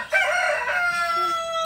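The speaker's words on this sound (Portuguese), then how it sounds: "É, o galo de plumas. Cantou?" A rooster of a plumed breed crows in a backyard, one loud, close, drawn-out call that rises quickly and then holds a long sustained tail.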